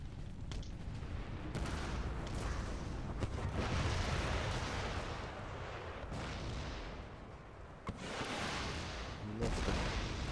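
Artillery cannons fire in a battle in Empire: Total War, with several heavy booms and rumbling blasts spread across a loud, continuous stretch of battlefield noise.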